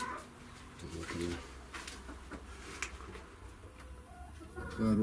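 A broody hen sitting on ten eggs in a new henhouse gives soft, short clucks and low coos in a few scattered bursts, fairly faint among other quiet poultry sounds.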